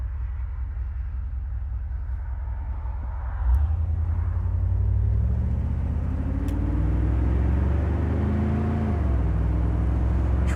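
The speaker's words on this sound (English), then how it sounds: "Again, notice the idle, real nice idle." A 1972 Chevrolet Corvette convertible with a 350 V8 runs in a steady, loud low rumble, with the tone shifting partway through as the engine speed changes.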